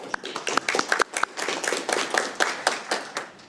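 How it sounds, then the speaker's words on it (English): Audience applause in a county board of supervisors meeting room: a steady patter of many hands clapping fills the few seconds, with sharper individual claps standing out and no speech over it. "Round of applause."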